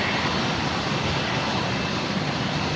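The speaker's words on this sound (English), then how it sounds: "The Qantas 73 we just saw arriving from Sydney there, pulling into the domestic terminal." A Qantas Boeing 737 taxiing toward the domestic terminal at Brisbane Airport, a steady broadband engine roar at moderate distance with no breaks.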